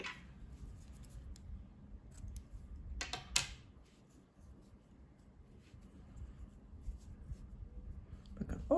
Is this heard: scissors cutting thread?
yes